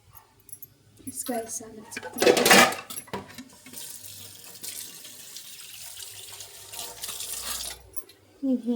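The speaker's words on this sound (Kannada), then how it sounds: "ಈಗ ಇದಿಷ್ಟು ಪಾತ್ರೆ ತೊಳೆದು ಅದಷ್ಟು ಕ್ಲೀನ್ ಮಾಡಿಕೊಂಡ್ರೆ ಮುಗಿತು ನನ್ನ ಕೆಲಸ" Dishes are washed under a running kitchen tap: water gushes and splashes in bursts, loudest near the start, with light clinks of utensils and a brief voice in between.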